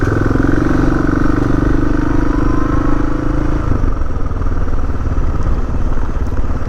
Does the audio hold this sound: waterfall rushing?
no